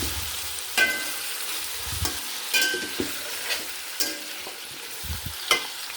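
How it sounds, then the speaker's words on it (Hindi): Beef frying in oil for pulao, a steady broadband sizzle with intermittent scraping stirs and clinks of a spoon against the pot, close and moderately loud, no talking. "जो बीफ है उसको आपने अच्छे से फ्राई करना ताकि इसकी स्मेल ख़त्म हो"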